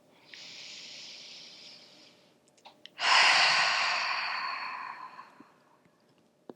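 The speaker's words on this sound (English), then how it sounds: "Breathing in." Slow, deep breaths drawn in and released during a beginner yoga stretching flow, a soft airy inhale followed by a louder, fuller exhale, close and alone.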